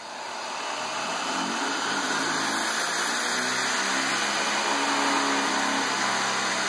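An electric vehicle motor driven through a DMOC645 controller spins up during an accelerator pedal test, a steady whirring hum that rises gently and holds with a constant high whine.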